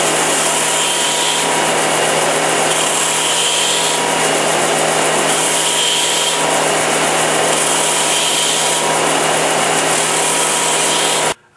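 A power tool grinds continuously and loudly into a small wooden piece, taking thickness off, a harsh steady rasp with slight surges that runs unbroken and then cuts off abruptly at the end.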